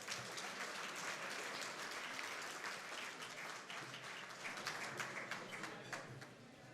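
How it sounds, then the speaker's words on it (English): An audience applauds at the 2017 Top 25 Immigrants in the Maritimes event, with steady, dense clapping lasting throughout at a fairly low, distant level. "Round of applause, please."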